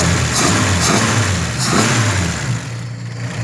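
Chevrolet Opala engine with a progressive Weber 48 carburetor on a modified intake manifold revving hard, loud and close, with rough, throaty surges that rise and fall through several blips, alone without talk.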